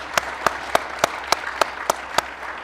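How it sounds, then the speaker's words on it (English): At a high school football banquet, a single person claps slowly and evenly for a player, about nine crisp, close claps spaced roughly a third of a second apart, alone and without talk. "Let me clap for you."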